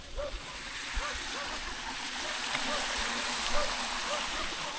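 River water rushes steadily near a fishpond, a continuous broadband flowing roar heard at fairly close range. Someone speaks faintly over it.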